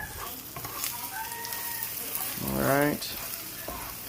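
An egg frying and bubbling in a fried rice pan gives a steady sizzle with crackling spatters, a short spoken word and a brief harmonic, crow-like burst partway through.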